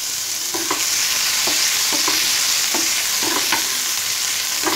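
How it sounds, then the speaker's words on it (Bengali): A chopped medium onion fries in two tablespoons of hot refined oil, a loud continuous close sizzle broken by regular light taps and scrapes of a spoon stirring the pan, with no one talking. "এই রিফাইন্ড অয়েলের মধ্যে আমি দিয়ে দেব মিডিয়াম সাইজের একটি পেঁয়াজ কুচি"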